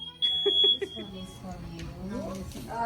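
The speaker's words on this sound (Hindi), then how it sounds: "तो हमारे घर में जो है फायर अलार्म चल गया." Smoke alarm set off by blown-out birthday candles at home, sounding a few sharp repeated high beeps early on, followed by people talking over a busy room.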